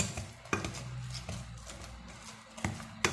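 A spoon stirs a potato mixture in a pan, giving soft scraping and a few sharp clinks of metal against the pan, quiet and close, with light sizzling underneath.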